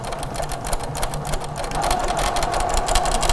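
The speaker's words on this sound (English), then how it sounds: "so we're sewing on each side of this diagonal line" A Little Rebel sewing machine from Grace Co. runs steadily, stitching quilt pieces for a tumbling leaf table runner along a drawn diagonal line, with a fast continuous mechanical whir and needle chatter close by, no talking.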